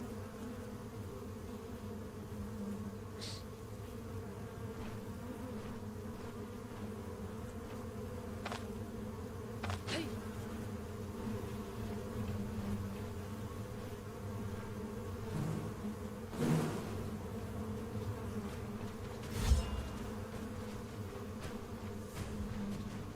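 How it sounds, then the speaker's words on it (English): Continuous insect-like buzzing of bees swarming in the video game Stoneshard, a steady droning hum over game ambience with a few brief clicks and a small thump near the end. "Holy freaking bees."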